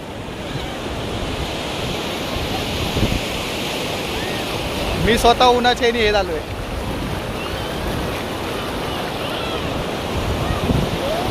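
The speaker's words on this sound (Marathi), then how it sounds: "लाट आहे बघ, आता लाट आहे" Sea waves at Diveagar beach on the Konkan coast roll and wash in a continuous roar, with wind buffeting the microphone; someone talks briefly over the surf midway.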